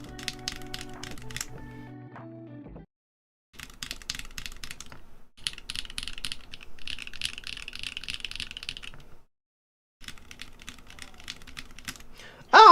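Bursts of mechanical keyboard typing on Neo Ergo switches, with rapid clustered keystroke clicks separated by short silent gaps and a sharp louder clack at the very end.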